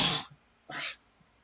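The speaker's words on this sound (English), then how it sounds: "Oh god, I have to sneeze." Two short, close, breathy bursts come from a person sneezing, separated by a brief pause of near silence.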